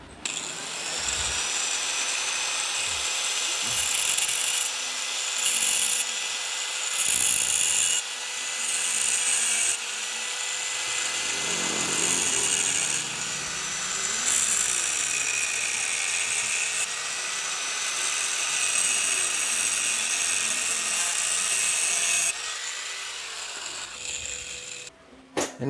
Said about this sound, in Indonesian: Saya gerinda dulu.